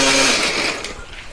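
An electric blender grinds shallots, garlic, candlenut, ginger, coriander and turmeric with a little water, a loud close whirring buzz that gradually eases slightly in intensity, no talking.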